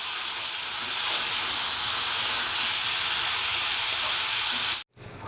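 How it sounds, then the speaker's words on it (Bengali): Raw peas and capsicum fry together in a pan, giving a loud, even hissing sizzle that runs steadily before cutting off abruptly near the end. "মটরশুঁটি আর ক্যাপসিকাম সিদ্ধ না করে আমি কাঁচা একটু ভেজে নিচ্ছি"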